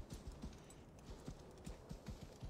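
A summoned horse's hooves clip-clop in the Assassin's Creed Valhalla video game, a steady, quick rhythm of soft thuds over a continuous hushed ambient bed.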